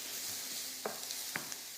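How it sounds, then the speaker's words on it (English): Onions sizzle and soften in a pan, a steady close hiss of frying with a couple of soft stirring clicks and no voices. "onions are just softening down"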